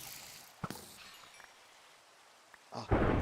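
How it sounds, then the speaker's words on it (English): Thunderstorm in the Minecraft game, with a brief crack early on and a louder rumbling burst of thunder and rain building at the end, between quieter stretches. "that's thunder. Yeah, that's really bad storm."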